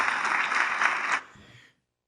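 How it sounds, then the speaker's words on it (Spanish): A theatre audience claps spontaneously for the comedian El Gran Wyoming in a dense burst of applause lasting about a second, then quickly dying away into faint scattered claps. "el público aplaudió espontáneamente al Gran Wyoming"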